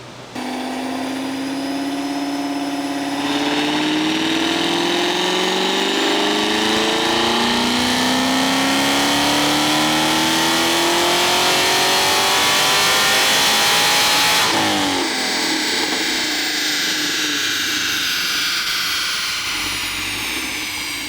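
A Camaro with new heads and cam runs on E85 during a dyno pull. The engine roars as the revs climb steadily for about fifteen seconds at a loud, rising pitch, then lets off and winds down. No one speaks.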